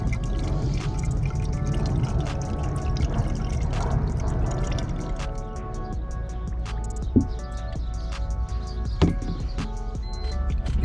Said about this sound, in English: You wanna add coolant until it starts to come out of the bleed screw.